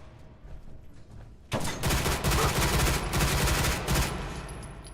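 A sudden loud burst of rapid automatic gunfire from a heavily modded Fallout 4 weapon, sustained for several seconds before tapering off.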